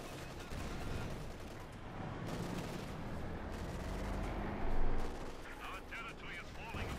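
Machine gun and artillery fire crackle continuously in a Company of Heroes 2 battle, with dense, rolling bursts and one louder swell under steady talk.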